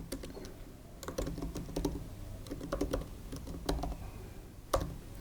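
Quick bursts of keystrokes on a computer keyboard, irregular clusters of close, crisp clicks with short pauses between, no voices.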